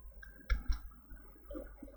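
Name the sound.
typing on a computer keyboard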